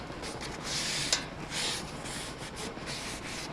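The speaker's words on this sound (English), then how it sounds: "And you're just gonna rub it all over so that every part of the griddle" Oil being rubbed by hand across the surface of a Blackstone griddle, a steady close scraping and wiping sound in repeated strokes with one sharp tick midway, no voices.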